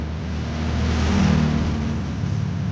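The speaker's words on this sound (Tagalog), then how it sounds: "Okay, may motor." A motor vehicle rolls past close by on a residential street, a loud engine drone that swells to a peak midway and then gradually eases off, with no talking.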